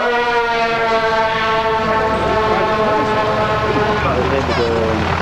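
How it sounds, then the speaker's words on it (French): A model four-engine turboprop aircraft at a 1981 model flying meeting in Yverdon passes by with a loud, steady multi-tone drone that shifts pitch as it goes past, with someone commentating over it. "Vous avez la maquette de cet appareil qui passe devant vous maintenant."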